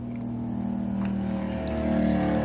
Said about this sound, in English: Was that a car or a motorcycle? I think it was a motorcycle, maybe a moped.